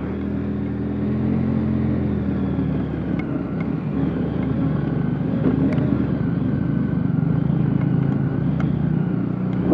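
A motorcycle or scooter engine that has been misfiring after a steep off-road uphill climb runs close by with a continuous low, throbbing rumble and a steady drone throughout, without clear revving; no speech.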